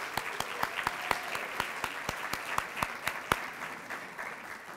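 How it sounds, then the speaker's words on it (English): Crowd applause at a school academic awards assembly, a short burst of moderate clapping with sharp individual claps standing out, steady and not thunderous, filling the gap between names being called. "we're going to do respectable applause in between each name"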